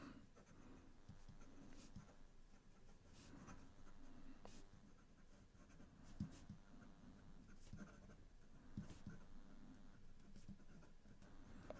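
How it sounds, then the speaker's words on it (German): A fountain pen with a fine nib scratches quickly across paper in a continuous, soft, busy patter of strokes, close and quiet with no talking. "Und schnelles Schreiben."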